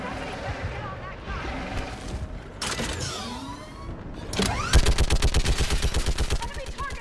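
A mounted gun in the Mass Effect 3 video game fires at enemies, first scattered shots and mechanical clatter, then a rapid rhythmic burst of loud automatic fire, with voices speaking in between.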